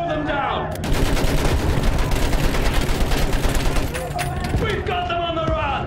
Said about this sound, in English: Use that machine gun. Blow them down.